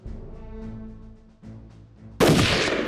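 A burst of AKSU-74 submachine gun fire from the video game Jagged Alliance 2, a sudden loud, dense crack that stays sustained and bright through the final second, following a stretch of quieter tonal game background.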